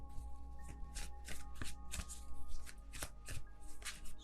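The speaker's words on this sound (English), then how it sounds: "I'm just gonna wait until it feels right and then take out all of the cards at once." Tarot cards being shuffled by hand: quick close riffling and flicking bursts in an irregular rhythm, soft and steady, with no talking.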